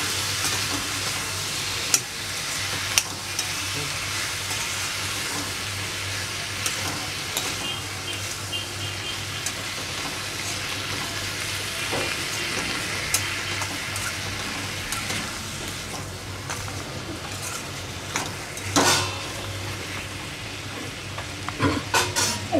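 Raw mango pickle sautéing and being stirred in a pan, a steady close sizzle with scattered spoon scrapes and clinks against the metal, no voices.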